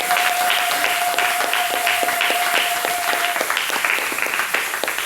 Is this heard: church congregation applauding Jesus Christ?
yes